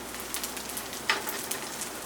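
Vegan burger patties frying in a pan give a steady, faint sizzle with a few soft crackles and pops throughout.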